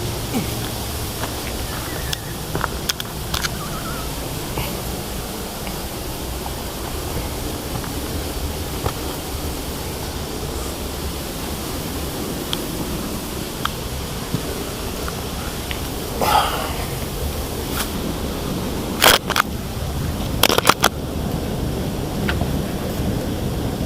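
Steady broadband rush of a waterfall on a rocky trekking route at the Cafayate cascades, continuous and fairly loud throughout, with a few sharp knocks and clatters near the end.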